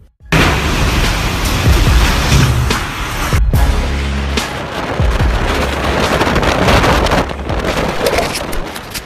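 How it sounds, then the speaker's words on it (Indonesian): Typhoon Lekima's storm wind in China roars as a loud, continuous rush of gusting air, with a brief dropout partway through before the blast resumes with no voices. "Topan Lekima, Cina."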